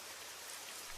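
Steady rain falls as a faint, even hiss of dense drops with no breaks and no voices.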